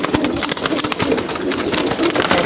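Large fancy pigeons, a pair of big red birds such as Madrasi Golla or Raj Golla, coo near the microphone amid busy broadband noise and brief scattered clatter.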